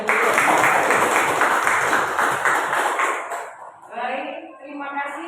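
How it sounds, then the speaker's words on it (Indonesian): An audience claps for a speaker being welcomed at a school teachers' dissemination session on positive culture. The dense, steady applause fills the first three seconds, then fades and stops, and a voice starts talking afterward. "Tepuk tangannya dia."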